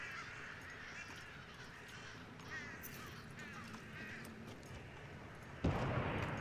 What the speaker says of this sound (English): There's a lot of crows around here.